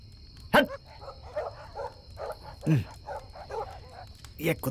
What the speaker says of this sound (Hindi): ये कुत्ते भी भौंक रहे हैं।